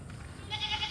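A goat on a farm gives a short, faint bleat in the second half of a brief quiet moment.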